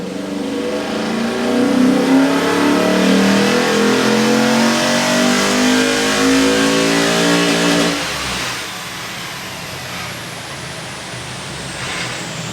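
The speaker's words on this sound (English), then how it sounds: "All right, we've got Scotty's GT, XR8, tune, bit of a built motor, cam, headwork." A Ford XR8 GT with a built motor, cam and headwork revs hard on a dyno, loud and close, with a rising engine note that holds for about eight seconds before dropping to a rough idle.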